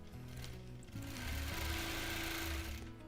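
A domestic sewing machine stitches free motion quilting on a palm leaves design while setting lock stitches, giving a steady, close whirring drone that steps up in speed after the first second and runs on alone without talk.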